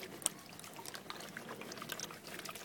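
Water sloshing and trickling in a gold pan shaken side to side during panning, a faint, continuous splashing with small drips and splats, heard alone.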